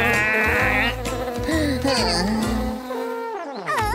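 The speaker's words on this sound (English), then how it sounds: "bee will sting you" Angry bees in a children's cartoon, a loud, continuous buzzing drone that swoops up and down in pitch over four seconds, layered with a busy musical soundtrack and no talking.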